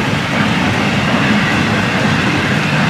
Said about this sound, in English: good looking train